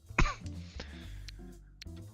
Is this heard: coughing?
yes